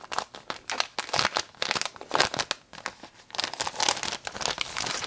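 Crinkly plastic packaging of a sticker pack being torn open and crumpled, close and fairly soft, in irregular bursts of crackling and tearing with no talk.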